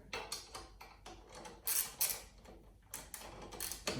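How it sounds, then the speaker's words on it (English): A 10mm socket and ratchet tighten the cross brace of a Yamaha XT1200 motorcycle pannier rack, giving close, repeated ratcheting ticks and small metallic clicks in uneven strokes. "I'm gonna use a 10mm wrench and a 10mm socket and ratchet."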